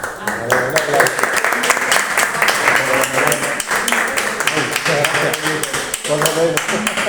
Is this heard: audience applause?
yes